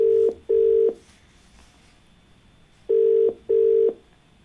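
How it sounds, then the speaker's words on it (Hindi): A telephone line's tone plays as two pairs of short, loud beeps with a long quiet gap between the pairs, as a call is placed to a phone-in caller. "और चलिए फोन लगाते हैं अपने अगले कॉलर को।"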